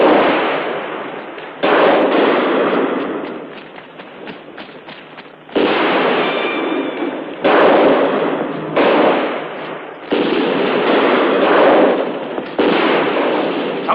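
Gunfire in a 1963 adventure film rings out as repeated loud bursts of rapid shots, several long volleys separated by brief pauses, harsh and close over a noisy soundtrack.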